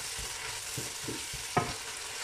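Pasta sauce stirred in a pan with a ladle of pasta cooking water just added, a steady low simmering hiss under a few soft scraping strokes and one sharper clink near the end.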